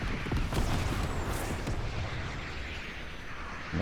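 Rocket launcher firing in a video game, a sharp booming blast followed by a rolling, fading explosion tail, moderately loud and heard alone.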